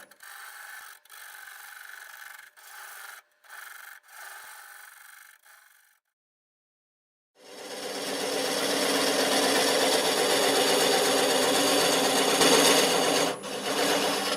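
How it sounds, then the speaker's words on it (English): A half-inch bowl gouge cutting away a wooden tenon on a lathe spinning at 480 RPM, a loud sustained rasping shear after a quieter stretch of light scraping and a brief pause. "I'm going to remove this tenon, 1/2 inch bowl gouge, 480 RPM to start with."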